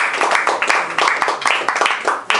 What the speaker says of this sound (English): give yourselves a round of applause here